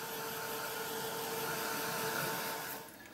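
A heat tool or hair dryer blows steadily to dry a layer on a mixed-media craft piece, a loud continuous airy whoosh with a faint whine that eases off near the end.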